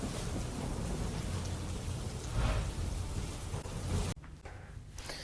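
Heavy monsoon rain pours steadily in Gujarat, a dense continuous roar of downpour with a low rumble of thunder, loud and close throughout, then thinning abruptly near the end to a quieter wash of rain.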